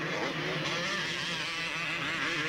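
An HRC-engined Honda 250 motocross motorcycle races at a 1992 world championship Grand Prix in Venezuela, its engine droning steadily and loudly with shifting pitch, blended with other bikes and no voices.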